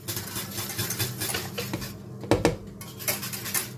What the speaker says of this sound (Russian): При этом молоко я помешиваю венчиком.